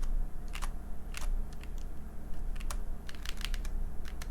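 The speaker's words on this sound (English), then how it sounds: "I can bottom out and then let go and know that the upstroke clack isn't gonna be very sharp" Mechanical keyboard with half-silenced switches typing close by, with soft, muted key clicks in quick irregular bursts over a low background hum.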